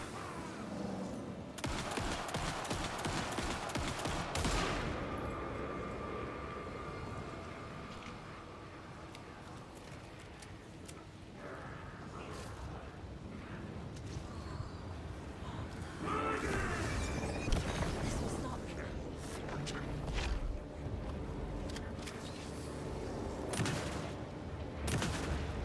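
An enemy fires a rifle in Alan Wake 2, loud repeated gunshots cracking in bursts across a dark, tense game soundscape, with heavy booms and clatter mixed in throughout.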